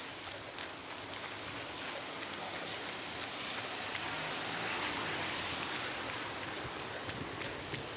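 Steady, dense rain falls continuously, a broad even hiss with faint patters on surfaces and no voices.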